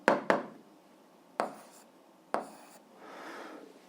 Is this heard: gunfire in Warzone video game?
no